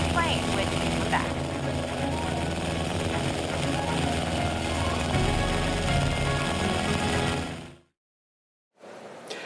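A stripped-down open-frame plane's engine drones steadily in flight over Alaska, a loud continuous roar with voices over it, cutting out abruptly near the end before briefly returning.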